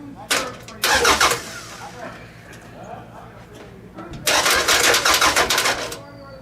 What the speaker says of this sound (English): I have a battery booster on it right now. I think it will start.